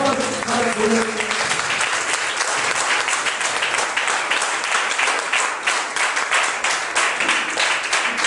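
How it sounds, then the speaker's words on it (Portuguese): A church congregation at a youth service bursts into sustained applause, a dense wash of many hands clapping that fills the room, with a voice briefly audible at the start. "a igreja receberá ela com palmas"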